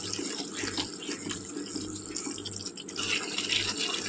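Tap water runs steadily into a mixer jar while mackerel curry is being prepared, a soft continuous splashing hiss with small gurgles, quiet and close, with no talking.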